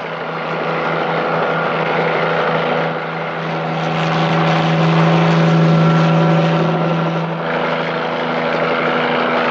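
A helicopter in flight gives a loud, steady rotor and engine drone with a strong low hum that swells and eases a little, and no voices are heard.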